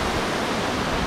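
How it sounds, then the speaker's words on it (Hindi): Rushing water at the Sirki Bandha waterfall in the morning, a steady, loud, dense roar that holds constant throughout with no voices. "सिरकी बंधा का फॉल, पानी की आवाज़ सुनिए।"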